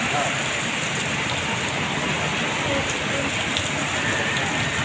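A torrential downpour beats on a road where water is starting to pool, giving an unbroken, loud roar of rain from start to finish.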